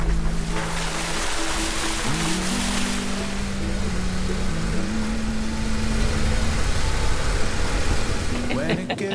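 A jeep splashes through deep water on a guided tour in Canyon de Chelly, with a continuous rushing wash of water and a low engine drone under a guide's speech.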